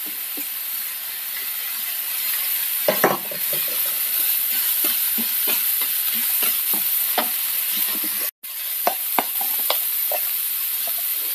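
Onion, green chillies and curry leaves sautéing in a pan, with a close, steady sizzle broken by repeated sharp scrapes and clacks of a spatula stirring and a brief dropout near the end.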